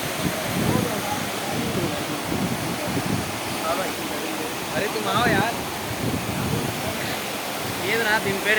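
Hebbe waterfall in Karnataka roars as a steady, broad wash of falling water, with people talking and calling out over the continuous rush.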